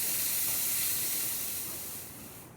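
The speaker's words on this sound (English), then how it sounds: "oh yeah, that steam's a lot better." Steady, bright hiss from the steam wand of a freshly serviced La Pavoni espresso machine, moderately close and continuous, tapering slightly toward the end.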